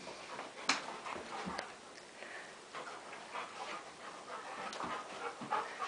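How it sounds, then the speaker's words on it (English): Puppies pant and scuffle in play, with quick breathy panting, soft whimpers and scattered thumps, fairly faint and close. "Maxie is a green ginger puppy, and Lolla is the Sofie puppy, the big girl that loves to swim"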